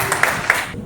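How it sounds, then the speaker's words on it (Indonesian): Brief burst of clapping from a youth church gathering, a few distinct claps amid room noise and murmuring voices, cut short after a second. "tepuk tangan buat Kak Uli."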